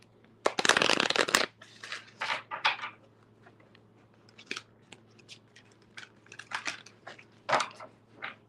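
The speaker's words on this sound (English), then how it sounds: "Okay, Susan, let me shuffle these cards." Tarot cards are shuffled by hand in a quiet room, a series of crisp riffling bursts with short pauses between them, the first longest and loudest, with no talking.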